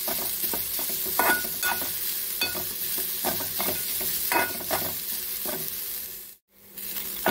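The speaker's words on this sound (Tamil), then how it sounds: "இப்போ இதெல்லாம் நல்லா கலந்து விட்டு கொஞ்சம் செவந்து வர அளவுக்கு வறுத்து எடுத்துக்கலாம்" Grated coconut being stirred and roasted in a pan for sweet kozhukattai filling, a steady dry sizzle with repeated scraping strokes of a spoon, close and alone, cutting out briefly near the end.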